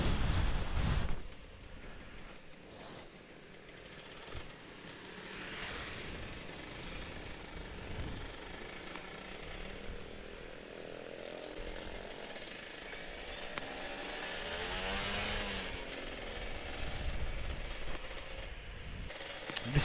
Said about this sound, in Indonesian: Bisik banget ya motor gue.